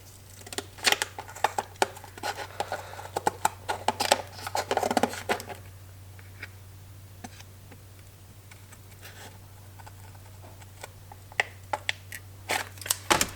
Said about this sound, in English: We're gonna start by trying to cut it with the scissors,